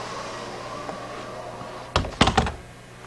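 A door swings shut with a couple of quick thuds and a rattling latch, close by and brief, over a soft steady hum.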